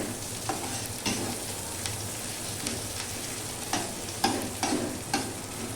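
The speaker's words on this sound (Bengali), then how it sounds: "পেঁয়াজটা একটু গরম করে নিচ্ছি, একটু ভেজে নিচ্ছি" Onions frying gently in oil in a pan for a pumpkin and chickpea dish, a steady close sizzle broken by periodic scraping stirs of a spatula, with no talk.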